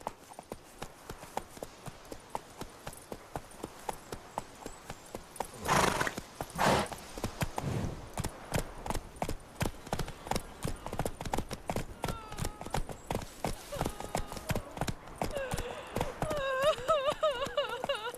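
A horse gallops in The Witcher 3: The Wild Hunt, its hooves clip-clopping in a fast, steady rhythm, with a brief whinny, a rush of movement and swelling game sounds toward the end.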